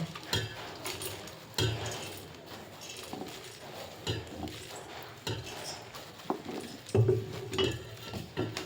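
Puffed rice (mandakki) for North Karnataka masala mandakki is tipped into a pot and stirred, giving scattered clinks and scrapes of a spoon against the metal vessel with soft rustling, close and intermittent, stronger near the end.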